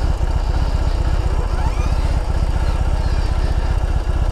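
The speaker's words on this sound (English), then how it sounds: "And then you fire it up" A 2021 BMW R18 motorcycle's boxer engine idles loud and close with a steady, throbbing low rumble and even pulses throughout.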